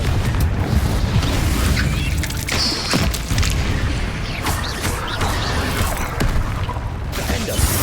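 A Confringo fire spell goes off in the Hogwarts Legacy video game, a loud booming blast with whooshes and crackling debris over a dense, continuous battle din.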